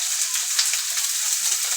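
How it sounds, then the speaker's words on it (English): Red and white onions sizzle steadily in a hot oiled pan, a dense continuous crackling hiss with no pauses, close and fairly loud. "So the red and white onions are now in the pan."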